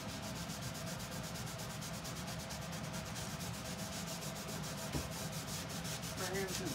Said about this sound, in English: you just rub it on, and then if it's too dark, you kind of just rub it off